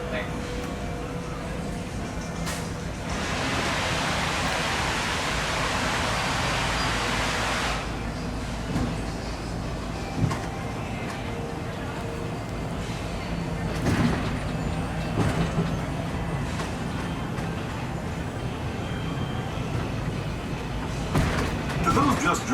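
Onboard the Disneyland Railroad in California, a train rumbles steadily along the track with a brief loud hissing burst early on and occasional clanks, while an announcer talks over the ride.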